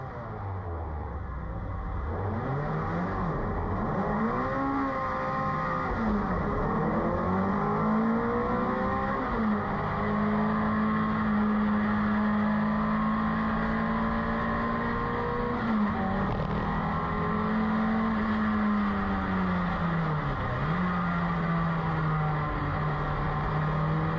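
A racing car engine revving to about 8,000 rpm, loud and close, its pitch climbing and falling in repeated sweeps before holding a sustained high whine, with no talk.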